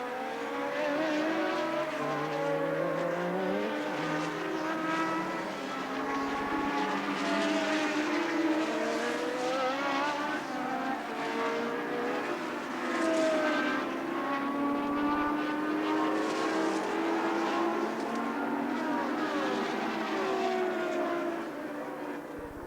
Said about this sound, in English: Piquet went very rapidly past Arnoux, which gave you the idea that the BMW engine might be even more powerful than the Renault